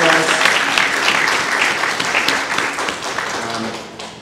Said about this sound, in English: we give him a round of applause for all of the hard work that he has done for us